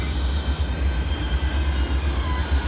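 A steady low mechanical rumble and grinding drone of theme park ride wheels on a track in the video game The Park, continuous and fairly loud with no voices.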